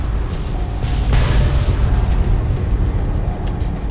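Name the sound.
explosions in the Fallout New Vegas video game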